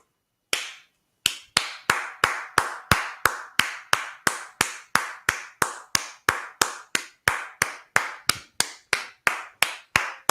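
Slow, deliberate hand claps ring out one after another, about three per second, each a sharp, close, loud smack with a short decay, alone against silence.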